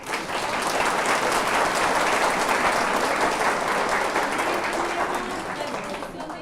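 Strong, dense applause at an extraordinary accounting assembly honoring a doctor, loud and steady throughout with faint voices in the crowd.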